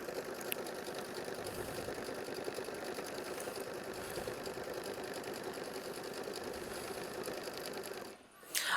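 An embroidery machine sews a decorative stitch through quilting, a continuous even mechanical whir that runs steadily for about eight seconds and then cuts off near the end.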